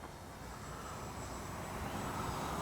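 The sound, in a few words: Dynam P-61 Black Widow RC plane flying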